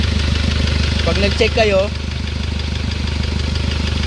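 A 2007 Hyundai Starex CRDI diesel engine idles with a steady low, knocking throb, running loud and close throughout while someone talks briefly over it.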